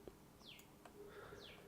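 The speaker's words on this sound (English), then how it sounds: "Can hear some bird chirping mighty close." Birds chirp close by outdoors in a few short, sharp calls over a steady low background hum.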